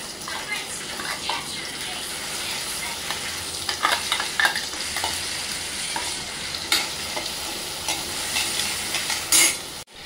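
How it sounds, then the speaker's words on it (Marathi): Coconut and freshly ground masala paste sautéing in a pan for a Malvani-style rajma masala, with steady frying hiss and spatula scrapes and stirring clicks throughout, ending in a louder clatter. "आता आपण हे खोबरं आणि जी पेस्ट बनवली आहे ना ती परतून घेऊया"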